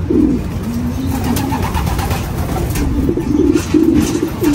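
Pigeons cooing near a loft, a steady run of soft, throaty coos rising and falling across the whole stretch, close and fairly loud with no talk over them.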